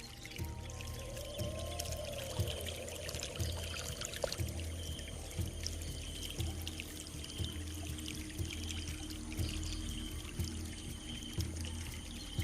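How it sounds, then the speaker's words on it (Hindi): Cartoon waterfall pouring steadily, a continuous watery rush with a faint trickle running on alone, with no talking. "जाओ उस झरने के नीचे खड़ी हो जाओ"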